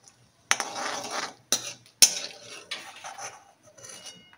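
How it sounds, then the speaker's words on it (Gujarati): Pistachios stirred and roasted in ghee in a pan, with a metal spoon scraping and clinking against the pan in three or four sharp strokes, each followed by a rattling, sizzling scrape that fades, alone and close. "હવે એને આપણે ઘીમાં થોડી વાર શેકી લઈશું."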